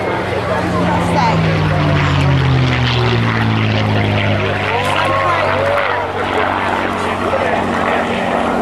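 A heavy WWII bomber warbird, a four-engine B-17, passes at an airshow with a loud, sustained propeller drone that swells and shifts in pitch as it flies by, with a voice talking over it.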